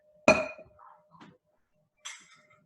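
Ice clinking inside a cocktail shaker: one bright, sharp glassy clink, a couple of softer rattles, then another clear clink about two seconds later, close and otherwise quiet.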